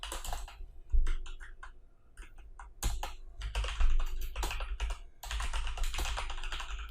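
PHP code being typed on a computer keyboard, with quick bursts of close keystrokes and short pauses between runs, steady and without speech.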